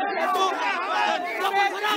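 Crowd of protesting teachers at the Shaheed Minar shouts slogans over job nationalisation and a house-rent raise, many overlapping voices in a continuous, fairly loud roar with rhythmic swells.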